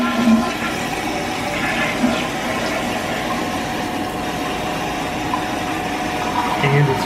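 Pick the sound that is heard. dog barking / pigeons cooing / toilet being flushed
toilet being flushed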